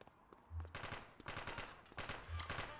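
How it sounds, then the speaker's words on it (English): Distant bursts of automatic gunfire on a city street in The Precinct, fairly faint with low booming thumps, arriving in two clusters roughly two seconds apart, no talking. "Who's shooting?"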